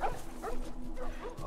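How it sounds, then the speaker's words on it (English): Dogs bark in The Last of Us video game, sounding as faint, repeated yips and barks set low beneath game ambience, with no clear talk over them. "If them dogs attack me, bro, I'm sorry."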